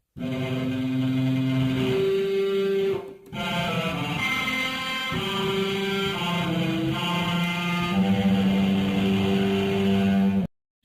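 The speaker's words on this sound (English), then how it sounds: "And now an electric guitar we have." Sustained distorted electric-guitar-like tones with a buzzy, synthetic edge, made from a robot beep sample, play continuously for about ten seconds, with a brief dropout near the three-second mark.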